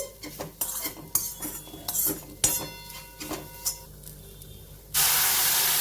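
Metal utensils clatter and scrape in a pan of vegetable millet soup, then a sudden loud, steady hiss and sizzle as boiling water is poured in near the end.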